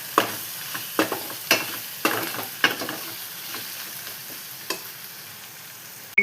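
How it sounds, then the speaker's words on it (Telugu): Fish frying with ginger garlic paste and turmeric is stirred in a pan, with a series of sharp utensil scrapes and clacks over a soft, steady sizzle, close and alone with no talk. "దీన్ని ఒకసారి ఇప్పుడు మంచిగా కలుపుకుందాం."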